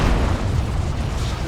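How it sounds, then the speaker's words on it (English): Heavy weapon salvo explosions in Dawn of War II: a dense, loud, continuous low rumble of blasts lasting under two seconds without a clear gap. "Did that salvo just rip apart his heavy weapons squad?"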